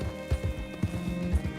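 Horse hooves in Red Dead Redemption 2, a few soft clip-clop footfalls at a walking pace, heard close over a steady low game ambience.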